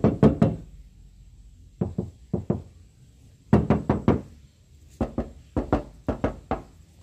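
Knuckles knock on a car body panel fitted with sound-damping material, giving dull, solid thuds in quick clusters of two to five raps, separated by short pauses, close and moderately loud.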